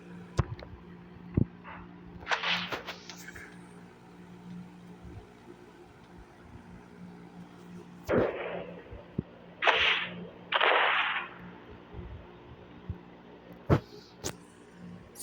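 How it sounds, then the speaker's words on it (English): The main cannon of the Vostok fires in a video game, loud sharp blasts and whooshing bursts spaced unevenly over a low steady engine hum. "First test is a main cannon."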